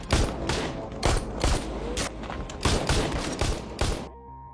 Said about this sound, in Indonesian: Tiba-tiba muncul si Victor melepaskan tembakan ke arah Angel